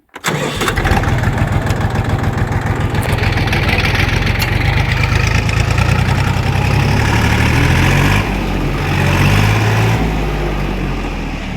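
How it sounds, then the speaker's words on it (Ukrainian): A Kentavr 244SX tractor's diesel engine runs steadily at idle, loud and close, with a low rhythmic chug and a brief change in pitch near the end. "Працює трактор суперово,"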